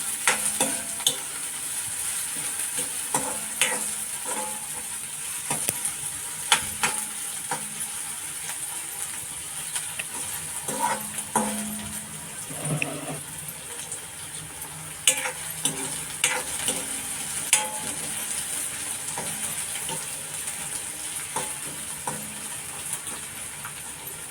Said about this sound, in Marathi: कांदा चांगला लाल करून घ्यायचा